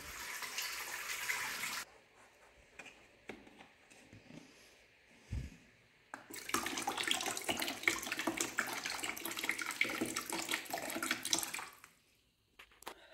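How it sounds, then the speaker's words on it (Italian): Hot water poured from a tap into a basin for washing stairs, a steady gushing splash that stops briefly midway, then resumes strongly before cutting off, heard up close with no talk. "in questa bacinella vado a mettere dell'acqua calda"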